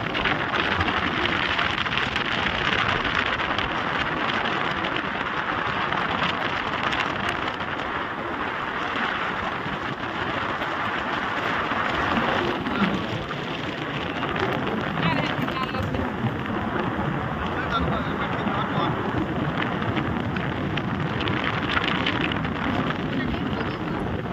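Heavy rain falls on a travel route from Tetelagarh to Bargarh, a dense, continuous roaring hiss with gusty wind noise on the microphone, while a voice talks faintly beneath it.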